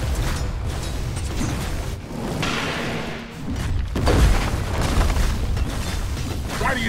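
Dota 2 tower under attack, with dense thumps, booms and mechanical clatter of battle that swell toward a heavier impact midway and carry on loudly.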